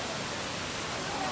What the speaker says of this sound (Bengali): দেখুন কি কলকল শব্দে জল নেমে আসছে